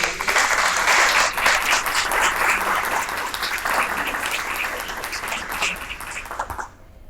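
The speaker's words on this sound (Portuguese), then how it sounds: "uma salva de palmas para vocês" A crowd applauds steadily, a dense wash of many hands clapping that carries on at full strength before fading out at the end.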